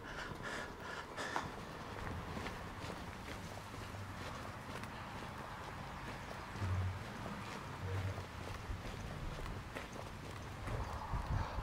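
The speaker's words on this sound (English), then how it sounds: "Horses getting ready for a hard day's pony tracking." Faint, steady hoof clip-clops of ponies walking on a pony trek somewhere in the distance on Ogmore Downs, mixed with outdoor background noise and occasional murmurs.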